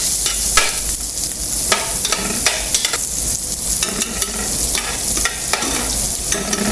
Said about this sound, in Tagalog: Pangawin lang natin yung butter.